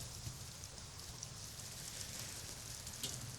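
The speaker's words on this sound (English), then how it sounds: "It's raining. I'm sure you can hear that." Steady rain falls outdoors at dusk under an overcast sky, a faint, even hiss of drops on surfaces with no voices.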